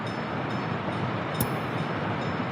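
A locomotive in the Soviet-era city-building game Workers & Resources: Soviet Republic gives a steady, broad rail rumble with a brief sharp burst partway through, continuous and fairly loud, with no talking.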